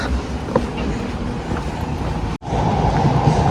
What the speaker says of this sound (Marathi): इथे ट्रेन चालली आहे मेट्रो स्टेशन अगदी जवळ आहे इथनं